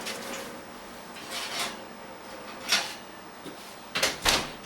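An oven door opened to take out baked banana bread, with a few soft rubs and clunks followed by two sharper knocks near the end, fairly quiet and with no talking.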